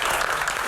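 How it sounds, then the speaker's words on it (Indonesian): Brief burst of dense audience applause, many hands clapping at once in a steady wash of sound, heard close at a televised panel discussion event. "Berikan tepuk tangan yang paling meriah sekali lagi."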